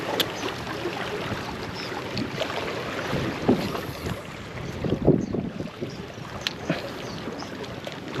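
Steady wind rushing and buffeting across the microphone outdoors at a fishing spot in Ternate, Cavite, with faint splashing of water and a few soft knocks, no voices.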